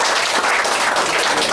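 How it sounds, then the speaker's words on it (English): Breakfast meeting audience claps for a guest speaker running for county clerk of court, a brief burst of dense, close applause. "Let's give Tommy a round of applause."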